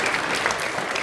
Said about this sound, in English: I'll give her sort of a special round of applause.